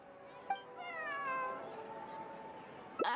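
A cat in the Genshin Impact video game gives one drawn-out meow with a rising then falling pitch, clear and close. A short sharp knock sounds before it and another brief noise comes at the very end.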